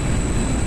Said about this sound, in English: Special afterburner mode.